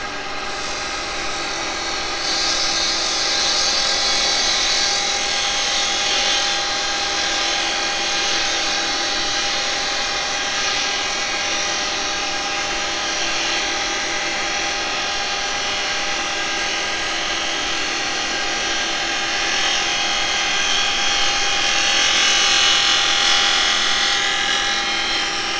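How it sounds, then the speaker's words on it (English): A spindle gouge cuts wood on a lathe, making a steady, loud, high whining hiss that holds almost continuously for the whole stretch. No one speaks. "So I'm going to go over just to a normal spindle gouge and just get a better little cut on this."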